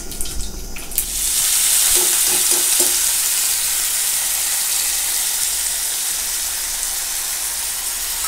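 Mustard seeds spluttering in hot oil in a South Indian kitchen: after a brief clatter, a loud, close, continuous sizzle sets in, with a flurry of sharp pops early on, then a steady frying hiss that slowly settles.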